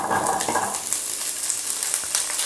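Asparagus frying in mild olive oil in a pan, a steady close hiss and crackle of sizzling that runs continuously throughout, with no talking.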